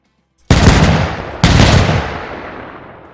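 A Flak Vierling 38 anti-aircraft gun fires in Arma 3: two loud, close blasts about a second apart, each trailing off into a long rumbling echo.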